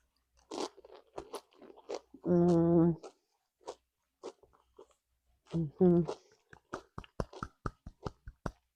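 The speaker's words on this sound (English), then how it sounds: "This is tasting the Mexican dip." Crunchy chewing and biting of tortilla chips with Mexican dip at a game-day appetizer spread, sharp close crunches in quick bursts, with a brief voiced vocal sound in between.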